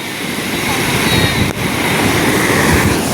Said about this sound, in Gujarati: જો મોજાનો અવાજ સાંભળો તમે